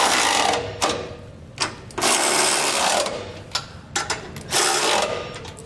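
Socket and wrench ratchet on trailer hitch nuts while fitting a Curt receiver hitch to a 2020 Chevrolet Silverado 2500, giving close, loud bursts of rapid clicking separated by brief pauses.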